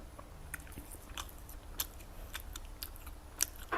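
Crisp biting and crunching of a waffle coated in edible 24k gold leaf, several sharp close bites spaced irregularly with quiet chewing between, no talking.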